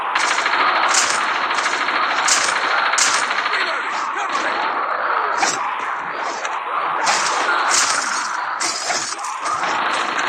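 Call of Duty video game gunfire, a continuous barrage of rapid automatic shots and sharp cracks at loud, even volume, with no speech.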